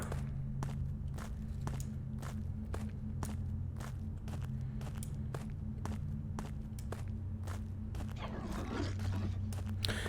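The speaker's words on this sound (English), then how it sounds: "It is eerie how often our own footsteps are the only sound we hear" Steady, evenly paced footsteps in the game Witch Hunt, crisp and close, sounding over a low droning ambience, with a brief rustling swell near the end.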